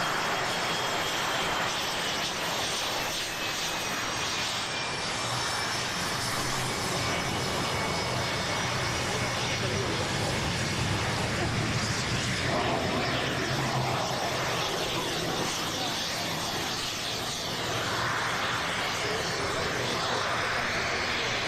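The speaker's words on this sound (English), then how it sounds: "I'm going quiet just for a second because so you can hear the aircraft." Singapore Air Force military jets on training flights over southwest France, a broad, steady engine roar that stays loud and constant overhead throughout, with no talking.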